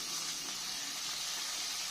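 Spices and about a teaspoon of ginger paste sauté in a pan for dahi baingan, giving a steady, soft sizzling hiss that runs evenly throughout with no talk.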